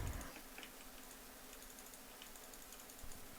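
Fast, light clicking of keys on a Razer BlackWidow computer keyboard, a quiet and steady run of typing with a few slightly sharper strokes at the start and near the end.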